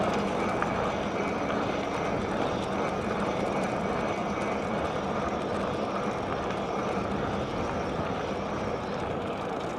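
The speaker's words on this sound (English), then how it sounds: "Appears that I'm going directly into a headwind right now." Headwind buffets the microphone of a rider on a Nireeka Prime e-bike, making a steady, dense, noisy rushing roar that stays constant and close for the whole stretch, with no talking.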